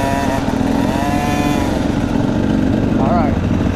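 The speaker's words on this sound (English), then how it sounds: "Watch the four-wheeler." A four-wheeler ATV engine drones steadily up close as it is driven, holding a constant rough mid-pitched roar for the whole stretch, with no break or fade.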